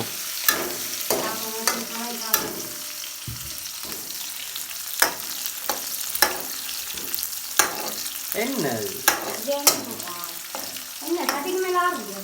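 Curry leaves tempering in hot oil for a Jaffna-style meat curry: a steady sizzle broken by repeated sharp clinks and scrapes of a spoon stirring in the pan.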